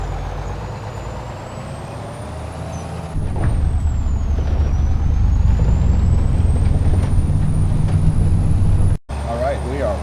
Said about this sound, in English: So we'll have to drive the tractor back down.